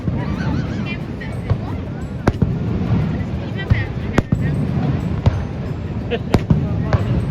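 Fireworks burst near Niagara Falls on the Canadian side, sharp pops and bangs scattered over a loud, dense crowd murmur and outdoor rumble, with people talking throughout.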